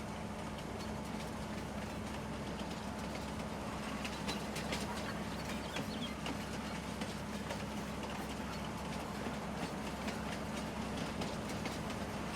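A high-speed train runs past in Farming Simulator 19, a steady, continuous rumble and rail clatter holding at an even level throughout, with no voices.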